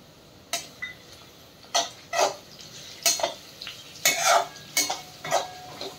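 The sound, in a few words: stirring onions with ginger-garlic paste in a pan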